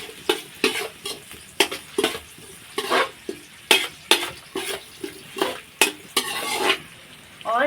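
A spoon scrapes and taps rhythmically through cauliflower and chana dal masala with frying onions and salt in a pan. The sharp close strokes come about twice a second over a soft sizzle.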